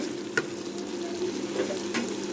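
Kala bhuna beef curry being stirred in a pot after the lid comes off, a steady low sizzle with a couple of sharp scraping clinks of the spoon, close and alone with no talking.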